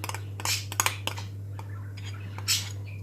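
Chocolate for Dubai chocolate is spread with metal cutlery in a container, heard as scattered scraping strokes and light clinks over a steady low hum, close and fairly quiet.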